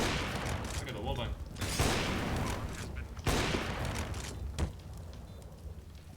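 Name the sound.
gunfire through a wall in a video game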